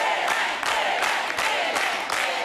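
Santos supporters of Pelé cheering in a television studio, a loud crowd roar with rhythmic clapping and shouting pulses, continuous and close throughout.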